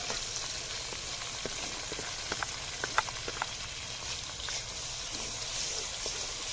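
Ginger garlic paste fries in a pan with a constant close sizzle, broken by light clicks and scrapes of stirring, with no voice over it.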